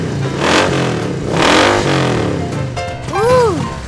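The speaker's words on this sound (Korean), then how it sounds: "진짜 남자를 위한 슈퍼 오토바이예요." A motorcycle engine revs up in bursts, rising and falling in pitch two or three times, loud and close, with a whine near the end.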